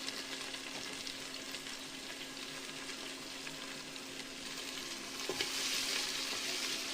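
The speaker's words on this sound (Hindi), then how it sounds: "कैप्सिकम को भी थोड़ा फ्राई कर लेंगे।" Capsicum fries in a pan with ginger-garlic paste, giving a soft, steady sizzle throughout with a faint stir or scrape near the end.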